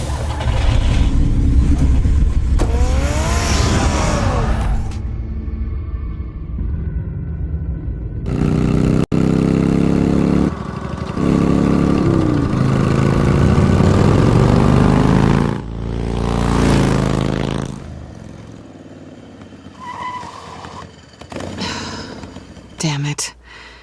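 A car engine revving in the Batman Telltale game, a loud rumbling engine that surges and accelerates in several bursts, with music and other noise around it.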